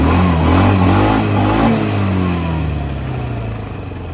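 A vehicle's engine revs hard in neutral under throttle, swelling to a loud, clattering roar and then slowly winding down as the revs fall, close to the listener with no talking.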